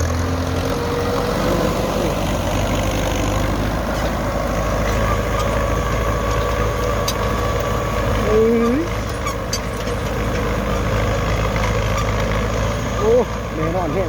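A Ford tractor ploughing a rice field chugs with a steady low diesel drone throughout, a constant nearby engine rumble with slight faint squeaks.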